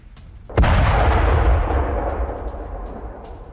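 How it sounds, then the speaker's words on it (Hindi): A single heavy explosion from an attack on a Ukrainian warship booms suddenly, then a long deep rumble rolls on and slowly fades; no voices. "और कितना जोरदार धमाका होता है"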